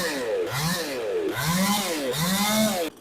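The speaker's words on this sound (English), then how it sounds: "pulled it 3 more times until it finally fired right up" Proyama 68cc chainsaw running just after starting, its engine revving up and dropping back in repeated swells, loud and close, cutting off abruptly at the end with no talking.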